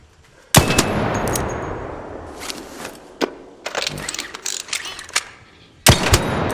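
Anvil Splitter gun in the video game Arc Raiders, a shotgun-like spread weapon, firing three sharp, loud blasts with ringing tails and mechanical clatter between shots.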